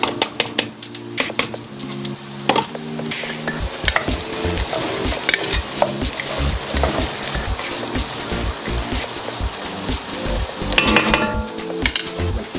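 Onions sizzling in a hot pot while making pot roast, a steady crackling fry with scattered clicks and scraping of a utensil against the pot, swelling louder near the end.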